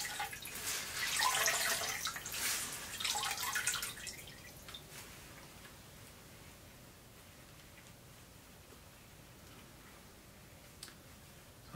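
Melted wax drips from a wax-dipped teddy bear as it is squeezed: a few seconds of dense splashing drips up close, then tapering to faint, sparse drips against quiet.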